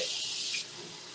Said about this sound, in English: so now we're going to put some more water in here